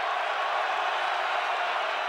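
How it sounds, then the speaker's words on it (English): Stadium crowd at an Iowa Hawkeyes home football game against Northern Illinois, roaring and cheering in a steady, dense wash of noise with no break. "Crowd getting behind the Hawkeyes."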